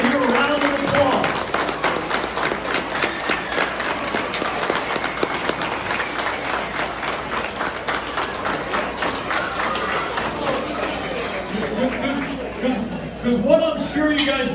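Audience applause at a youth football league awards breakfast on Staten Island, a steady dense round of clapping from a large crowd lasting throughout, with murmured chatter mixed in.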